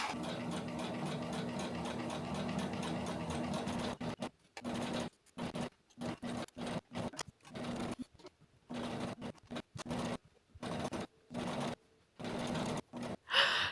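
A home sewing machine runs a long steady stitch along a folded fabric edge while tailoring a garment, then breaks into short stop-start bursts of stitching with brief pauses between, close and fairly loud.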